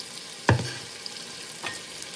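Food searing in a hot pan on a sear setting, with a sharp clatter of stirring near the start and a softer scrape later over a faint, steady sizzle.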